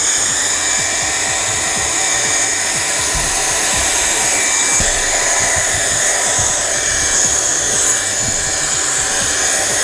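MECO ELEVERDE handheld air duster blowing through the narrowest nozzle into an old Acer laptop, a loud, steady high-pitched whooshing whine held for about ten seconds, close to the mic and alone.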